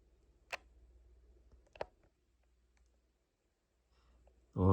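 A few sharp, isolated button clicks on a Canon Autoboy Prisma film camera while setting its date, spaced out with quiet gaps, followed by a louder thump at the end.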